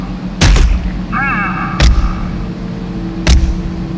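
Three loud, booming shotgun blasts from the video game Afterfall InSanity, spaced over a few seconds, with a brief electronic warble between the first two and a steady low hum underneath.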